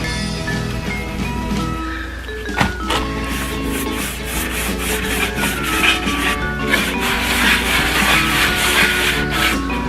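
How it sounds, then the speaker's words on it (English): A brush scrubs Annie Sloan dark wax onto a thrifted wooden decor piece, a close, continuous scratchy rubbing with rhythmic strokes that grow busier and louder toward the end. "Using dark wax from Annie Sloan and my dark wax brush."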